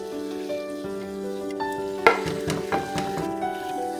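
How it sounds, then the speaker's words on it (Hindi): Yogurt-marinated chicken, cooked nearly dry with a little gravy left, frying in a pan as chopped green chilies go in; a steady close sizzle carries a few sharper stirring clatters partway through, with no talk. "अब जो मैंने ग्रीन चिलीज काटी हुई हैं ये भी मैं इसमें ऐड"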